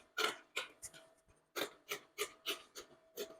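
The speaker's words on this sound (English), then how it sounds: "Just take it straight down, then cut it." Scissors snipping through dress fabric, two sleeves cut together: a quiet series of about ten short, crisp cuts in an uneven rhythm with brief pauses, close and faint, no talking.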